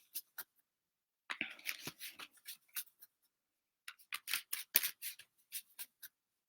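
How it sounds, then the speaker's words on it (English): Tarot cards are pulled and shuffled from a deck in crisp, quiet bursts of papery flicks and snaps, two separate flurries with a pause between, close and dry with no talk. "I'm going to go ahead and pull cards for the week ahead"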